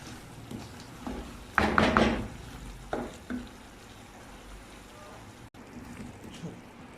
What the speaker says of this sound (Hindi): अभी हम इसमें गोश्त डालेंगे और तकरीबन इसको 5 मिनट तक मैं इसमें फ्राई करूँगी।